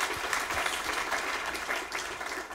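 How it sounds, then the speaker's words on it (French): An audience at a health-innovation event applauds sponsors in a continuous, dense wash of many hands clapping, steady and fairly loud throughout. "on applaudit les sponsors et l'IRCAD"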